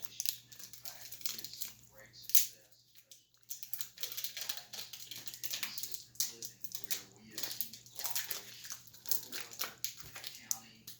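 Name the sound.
chocolate bar wrapper being cut open, crinkling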